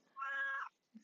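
A single cat meow, clear and close, with a rising-falling harmonic cry lasting about half a second, followed by a brief soft low sound.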